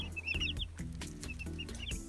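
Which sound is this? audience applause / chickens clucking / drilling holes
chickens clucking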